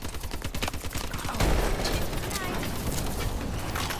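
Automatic turrets firing in Advanced Warfare Zombies, a dense, continuous rattle of rapid gunfire with heavy impacts, loud and sustained under game voices and effects.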